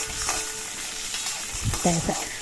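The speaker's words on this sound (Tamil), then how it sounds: "முதல்ல உளுத்தம்பருப்பு போட்டு கொஞ்சம் லைட்டாக செவந்த உடனே கடலைப்பருப்பு சேர்த்துக்கலாம்." Urad dal and chana dal fry in sesame oil, a soft continuous crackling sizzle close by, with a few stirring scrapes and a short clatter of the pan toward the end.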